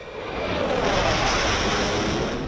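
French Dassault Rafale fighter jets fly during the Skyros military exercise, a loud continuous broadband roar that swells and holds steady throughout.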